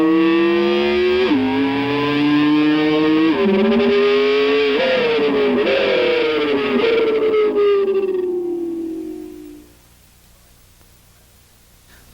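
An electric guitar imitates a Ferrari downshifting after third gear: distorted, engine-like notes climb and then drop in stepped slides, rising again several times before fading out, played alone with no talk.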